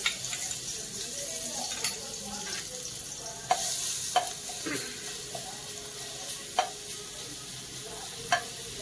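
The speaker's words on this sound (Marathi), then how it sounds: "तेल गरम झालेले. आलं लसूण पेस्ट टाकूया." Ginger garlic paste fries in hot oil for vegetable biryani, a soft steady sizzle nearby broken by several sharp spoon taps and scrapes against the pan.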